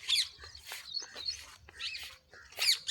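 Small birds chirp in a wheat field during harvest, with quick bright calls coming in short bursts every half second or so, fairly faint against a quiet rural background.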